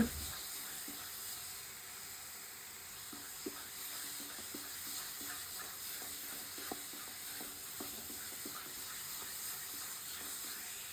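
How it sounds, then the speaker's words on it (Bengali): Dates cook in ghee in a pan with a soft, continuous sizzle and irregular light stirring scrapes, quiet and close, with no voices. "এই যে খেজুরগুলা ঘিয়ের পাকে যে দিয়েছি, প্রায় ঘি ছেড়ে দিব।"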